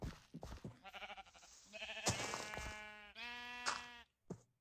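Several sheep bleats from a blocky sandbox video game, a series of wavering, nasal calls in quick succession, close and fairly loud with short gaps between them.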